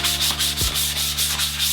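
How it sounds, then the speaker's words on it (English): Dry sanding of primer on a BMX bike frame with 600 grit sandpaper, a steady rhythmic scratchy rubbing in repeated strokes, close and loud with no talking. "I'm just going to rub down some of the rough areas on the primer with this 600 grit sandpaper."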